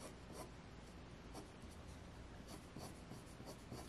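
Derwent Inktense pencil scratches and rubs across paper while colouring grass, a close, quiet run of short repeated strokes with a steady rhythm.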